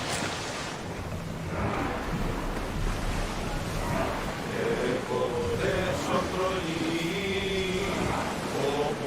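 Waves and wind rush steadily around a ship under sail in Assassin's Creed Odyssey, a continuous sea wash with brief tonal game sounds layered over it.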